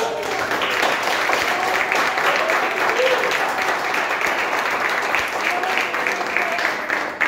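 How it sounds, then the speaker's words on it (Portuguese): Members of a Saturday church congregation clap together for Jesus in steady, dense applause that runs throughout, with a voice speaking over the clapping. "Tem alegria de dar uma salva de palmas para Jesus?"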